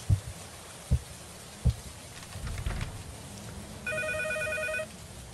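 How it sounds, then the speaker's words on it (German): A telephone in a horror video game gives one electronic ring near the end, preceded by a few dull thumps and a low rumbling murmur in an otherwise quiet, eerie scene. "Telefon."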